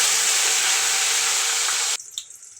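Mustard seeds splutter in a steady, loud hiss of sizzling oil that cuts off abruptly near the end, leaving a few faint crackles and pops.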